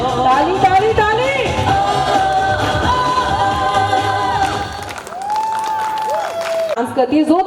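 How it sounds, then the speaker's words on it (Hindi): Audience clapping and cheering at a wedding sangeet performance, a steady wash of applause mixed under loud music and a voice calling out over a PA. "ताली ताली ताली।"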